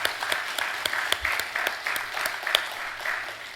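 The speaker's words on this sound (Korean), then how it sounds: "참 박수 한번 쳐보세요." A church congregation claps together, with a mix of sharp individual claps and a steady wash of many hands. The applause is moderately loud and continuous across the room, and no one speaks over it.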